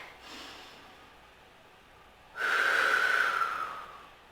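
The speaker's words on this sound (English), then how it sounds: "I'm going to take 3 deep breaths, trying to expand my back and ribs" Slow, deep breathing in a child's yoga pose during a warm-up: a soft inhale, then a louder, longer airy exhale near the microphone, with no talking.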